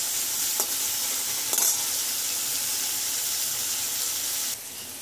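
Potatoes fry in an oiled pan, a steady loud sizzle with two quick scraping stirs early on, the hiss dropping slightly near the end.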